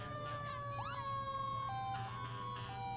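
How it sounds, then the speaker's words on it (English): Fire truck siren at a Christmas parade, a loud, close wailing tone that sweeps and then switches to a held pitch, over a low steady engine rumble, with no talk. "Need a little bit more siren tonight."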